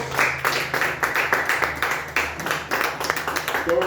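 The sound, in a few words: applause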